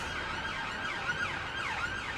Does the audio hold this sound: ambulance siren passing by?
yes